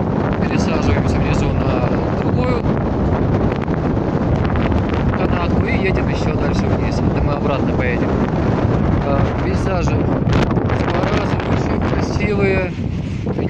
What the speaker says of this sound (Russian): Я не знаю, слышно меня или нет, но потому что ветер довольно сильный.